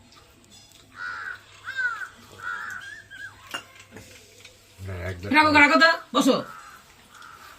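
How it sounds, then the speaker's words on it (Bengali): A crow caws a few times, loud and near toward the end, amid people talking and the light clink of dishes. "দেখবে কাকটা কিরম উড়ে যাবে"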